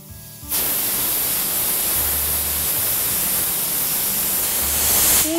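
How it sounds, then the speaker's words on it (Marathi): A pressure cooker releases steam in a loud, sustained hissing whistle that starts abruptly and holds steady for several seconds at close range in a home kitchen. "तीन शिट्ट्या झाल्या आहेत."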